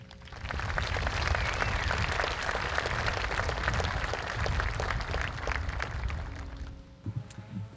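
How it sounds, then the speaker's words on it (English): Sustained applause from a graduation ceremony audience at Melrose High School, a dense wash of many hands clapping that swells quickly, holds steady and thins out at the end, with a voice starting to speak. "Let's give her a round of applause."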